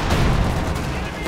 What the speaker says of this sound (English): And I have multiple AT guns that are going to start opening fire.